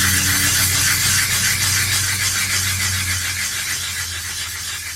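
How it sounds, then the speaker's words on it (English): Sandpaper rubs steadily across the inside of a new cast iron skillet, a continuous loud raspy scraping hiss with no talking, easing slightly toward the end. "I'm all done sanding the inside of the skillet"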